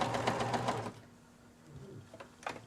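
A sewing machine stitches notebook parts in a fast rattling run for about a second, then stops, followed by a few faint clicks and a short restart.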